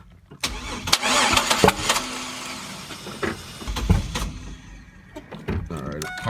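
The twin-turbo 3800 Series 2 engine in a Camaro cranks repeatedly in uneven bursts and pops without catching, with sputtering surges and short pauses, close and fairly loud.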